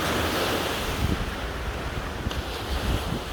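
Sea surf washing onto a Thai beach, a steady rushing wash of breaking waves mixed with gusty wind noise on the microphone, with no voices.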